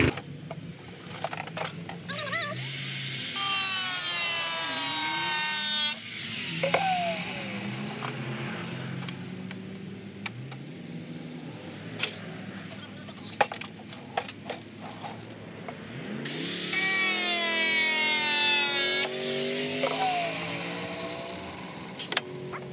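A small lawn mower engine runs in a workshop, and a close, rattling motor note rises and falls in long stretches between quieter gaps filled with clicks and metallic knocks.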